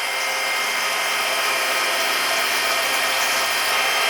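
Wood lathe spinning a wooden pen blank while it is sanded with 120 grit abrasive, a loud, continuous hissing whir that holds steady without pause.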